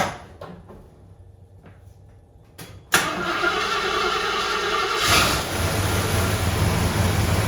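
A 1974 AMC Javelin's engine cranks and catches after a few quiet clicks and knocks, then settles into a loud, steady idle that swells slightly partway through, close by and alone.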